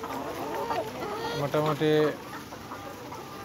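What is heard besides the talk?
layer chickens clucking on poultry farm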